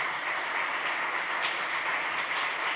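An audience at the close of a talk gives a steady, dense round of applause, the clapping blending into an even, rain-like hiss heard from a moderate distance without speech.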